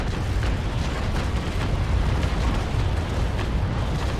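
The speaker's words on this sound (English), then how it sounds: "Now firing from the bow, ensure that I do that correctly. There we go, and fire!" Ship cannons fire from the bow in the Naval Action sailing game, Trincomalee against Belle Poule, a loud continuous broadband roar of overlapping booms and rumble filling the whole stretch with no talk.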